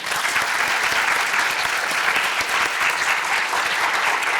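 Audience applause for predoctoral fellows at a graduate school ceremony for doctoral candidates, a dense, even roar of many hands clapping, loud and sustained from start to finish.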